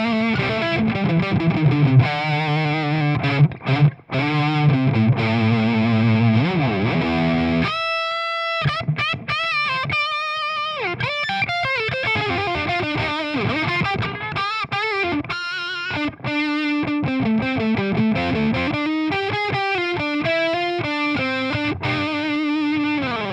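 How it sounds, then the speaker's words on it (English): Distorted electric guitar through a vintage humbucker pickup model, playing a continuous run of riffs and chords with sustained notes, loud and up close with no talk. "So let's have a look at the vintage humbucker sound"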